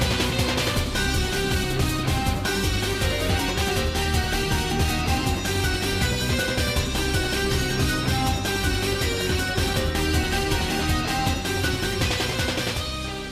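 The Touhou game theme for Seija plays as a dense, loud, steady instrumental track with driving synth melody and rhythm throughout, fading slightly at the end, no voices.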